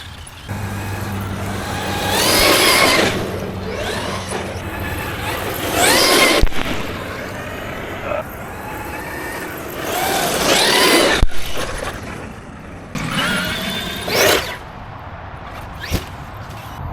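A Traxxas X-Maxx 8s RC monster truck fitted with a HobbyWing Max6 controller is driven in bursts. Its motor whines up loudly several times and then drops back, with rolling and crunching noise between the runs.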